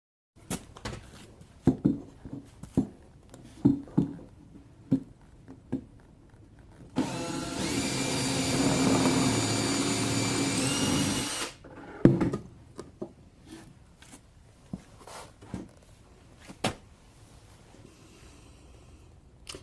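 A power drill whirs steadily for several seconds as it drives into scrap timber while building a beehive, bracketed by scattered knocks, clicks and handling noises of someone working nearby.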